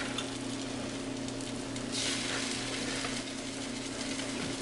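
Steady crackling sizzle of eggnog French toast frying in a hot pan, continuous and close, with a faint electrical hum underneath and no talking.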